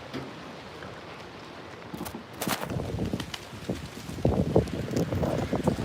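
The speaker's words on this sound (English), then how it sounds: "the wind's so bad right now" Gusty wind buffets a microphone outdoors, a low rumbling roar that starts softer and grows louder and rougher toward the end, with occasional sharper thumps and no talk.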